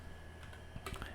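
Typing on a computer keyboard, a few quiet, close key clicks tapping out in a short irregular burst.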